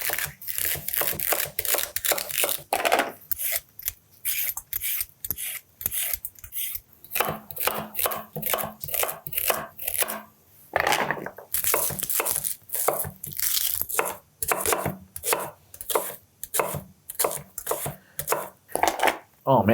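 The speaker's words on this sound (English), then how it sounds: "Let me show you how I cut those up into nice big chunks," Shallots chopped into big chunks with a knife on a board, fast rhythmic knocks in quick runs with short pauses, close and crisp, no talk.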